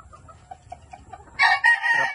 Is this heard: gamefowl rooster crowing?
yes